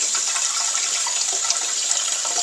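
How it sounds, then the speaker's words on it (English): Canned beans rinsed under running water in a kitchen sink: a continuous loud rushing of water close by, with small splashes throughout. "Give them a good rinse, get all that goop off them."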